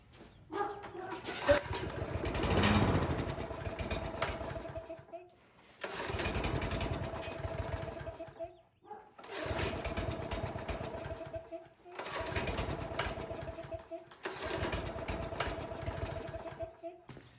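Small Troy-Bilt walk-behind lawn mower engine, just serviced, running roughly in five surging bursts, each few seconds of loud rough engine drone cut off by brief pauses, close by.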